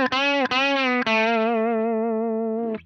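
Electric guitar through a Line 6 Helix overdrive, hard-picked so it breaks up slightly with light hair and compression: three quick struck notes, then a long sustained note that rings steady, close and loud, cut off at the end.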